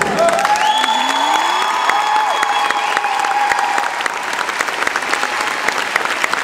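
Outdoor summer show crowd applauding the instructors, steady loud clapping with some cheering, mixed with whistles and tonal sounds sweeping over it before the clapping thins slightly toward the end.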